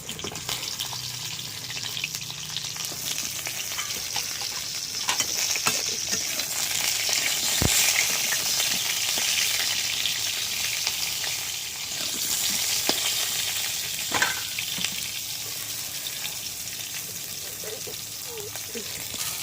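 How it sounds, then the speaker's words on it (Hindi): Pointed gourd (potol) frying in hot oil for an Odia-style potol curry gives a steady, moderately loud sizzle with a few scrapes and clicks, while a voice talks faintly at times. "फास्ट पोटल को तेल भाजी देवा"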